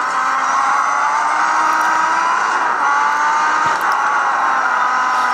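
Race cars climbing the Pikes Peak hill climb course, a continuous loud engine roar with rising and falling tones as the cars pass, heard from a distance with no talking.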